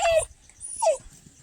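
An excited dog on a farm gives two short, high whimpering yips a little apart, close by, with quiet background between them.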